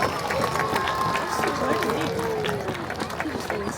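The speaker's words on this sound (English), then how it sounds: "everyone give Bounty one last cheer to say well done" A crowd at a sea lion show cheers and calls out for Bounty, the park's youngest sea lion, a dense, steady wash of many voices held at a fairly loud level for the whole stretch.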